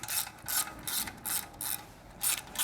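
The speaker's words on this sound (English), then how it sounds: "loosen the muffler clamp using a 10mm socket" Ratchet with a 10mm socket loosening a muffler clamp on a Triumph motorcycle exhaust, a series of quick close clicking bursts in an uneven rhythm.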